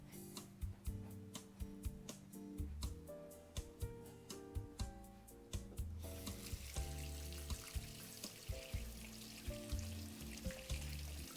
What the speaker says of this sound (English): I'm gonna wash my hand really quick before it stains.